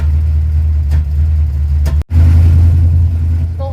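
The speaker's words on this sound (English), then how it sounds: "It only popped and backfired for about 10 seconds." A car engine fitted with an Edelbrock 1405 carburetor runs at a loud, steady low rumble, with a couple of brief sharp pops and a sudden short dropout near the middle before the engine note returns strongly.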